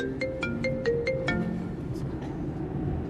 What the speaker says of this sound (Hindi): मामू की कॉल आ रही है।